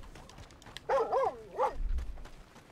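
A dog in Red Dead Redemption 2 gives a few sharp barks in quick succession, moderately close against quiet game ambience, followed by a low rumble.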